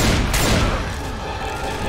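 Gunfire in the co-op zombie shooter Left 4 Dead 2, a loud volley of shots with a sharp burst near the start, then a dense, roaring spray that slowly thins and fades.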